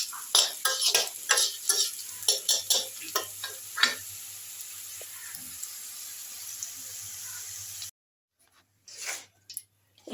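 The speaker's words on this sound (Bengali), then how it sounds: "সুন্দর করে আমি লাল লাল করে আলুটা ভেজে নিলাম" Potatoes frying to a deep red in hot oil, being stirred in a pan for a vegetarian drumstick dish; scraping, sizzling bursts come in an uneven rhythm for several seconds, then a short silence and a few final clatters, with no talk.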